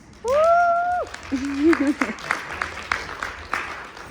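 An audience gives a round of applause for an audio-video team: a bright, sustained tone and a short warbling sound come first, then sparse, uneven claps ring out near and far.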